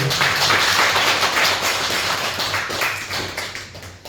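Applause from a church congregation fills the room, a steady dense wash of many hands clapping at once that holds for several seconds and slowly eases off near the end.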